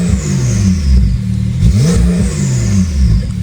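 A Porsche 911 Carrera S engine revs hard up against its rev limiter. It drones loudly and close by in a pulsing, bouncing pattern, rising and falling as the limiter cuts in, with no voices.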